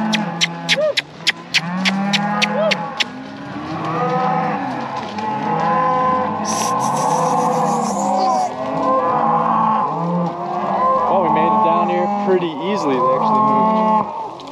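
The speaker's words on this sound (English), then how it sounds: "Come on, cows. In the corrals, let's go." A herd of cattle being driven into corrals moos repeatedly, with long overlapping bellows from several animals close by, and sharp clicks or knocks at the start.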